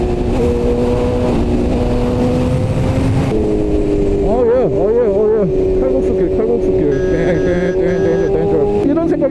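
BMW S1000RR sport motorcycle with a full aftermarket exhaust and variable valve timing, riding at steady speed with a loud, continuous engine drone that rises briefly in revs, while a rider talks over it.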